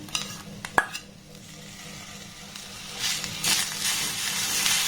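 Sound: stirring sugarcane jaggery melting in a pan

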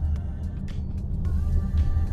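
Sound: inside a parked car

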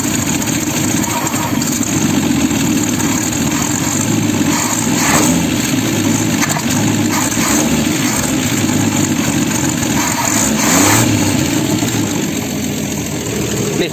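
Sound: Ford Falcon engine revving with a loose accelerator

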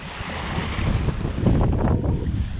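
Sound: wind

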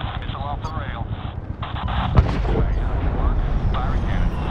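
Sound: missile launch from a gunship in the video game Medal of Honor 2010

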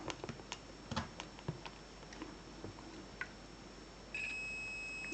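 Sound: electronic tester beeping

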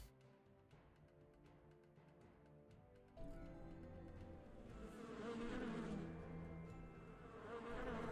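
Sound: bee buzzing of the Bee Witch in video game Lost King's Lullaby

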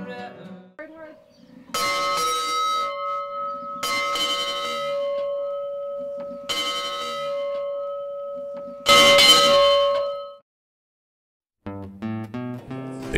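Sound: ranch dinner bell ringing

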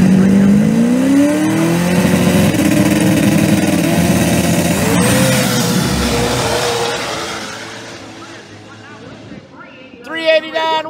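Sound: Pro Mod drag racing car run

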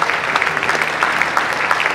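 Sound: audience applause for mentor program members

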